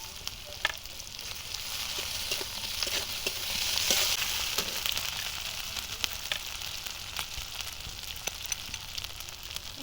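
Garlic paste, ginger paste and chopped onion frying in oil for a rohu fish curry, a continuous close crackling sizzle with a swell around the middle and scattered pops and stirring taps, no one talking.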